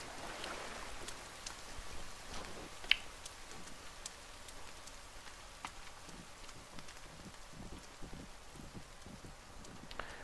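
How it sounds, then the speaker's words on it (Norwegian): Rain in the video game The Forest 2 makes a faint, steady patter with scattered droplet ticks and a single brief sharper click, and no one speaks. "Det regner igjen."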